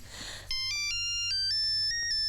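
A mobile phone ringtone starts abruptly and plays a bright electronic melody of stepped tones, loud and steady, with no voices.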